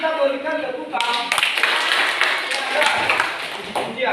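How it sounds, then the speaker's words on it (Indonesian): Students in a classroom give a round of hand clapping after a teacher's spoken prompt, a busy wash of many claps, fairly close and steady, with a voice heard at the start. "Maka sekali lagi mari kita berikan tepuk tangan"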